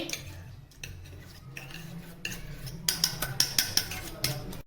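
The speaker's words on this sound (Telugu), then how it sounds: "మొత్తం ఒకసారి కలుపుకుందామండి." A spoon stirs cooled milk and curd together in a bowl, first soft swishing, then a run of bright metallic clinks against the bowl's side near the end, close and moderately loud over a low background hum.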